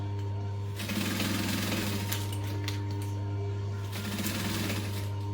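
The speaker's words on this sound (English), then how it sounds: "Couple of stitches and back stitch. Always, always back stitch." A sewing machine stitches a backpack made from a modified Bonnie by Swoon pattern, with a few forward stitches and a back stitch. Two short rattling bursts of needle action rise over a steady close motor hum.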